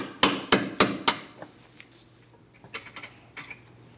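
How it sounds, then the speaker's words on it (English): Four sharp metallic taps from a small hammer on a rear brake flex hose of a 2003-2007 Cadillac CTS, quick, even, close and loud, followed by a few lighter scattered knocks and clinks. "you can carefully tap on it with a small hammer if necessary"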